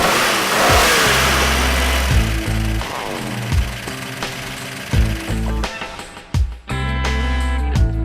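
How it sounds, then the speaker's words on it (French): A restored classic car's engine starts and revs at a roadside event, loud and close, with a string of sharp throttle blips rising and falling in quick succession before settling toward idle. "Est-ce que vous pensez que vous pourriez ouvrir le moteur, faire un petit peu de bruit?"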